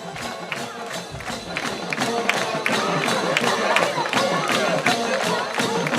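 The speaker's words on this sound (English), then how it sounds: "I'll turn up the crowd noise." Crowd noise fills a high school football stadium on senior night, Owensville Dutchmen versus Union Wildcats: loud, continuous cheering and clapping with bursts of shouts, a dense wash of many voices close and far.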